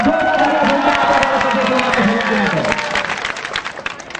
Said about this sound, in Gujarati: એકવાર જોરદાર હીરાભાઈ સોલંકી માટે તાળીઓ વગાડો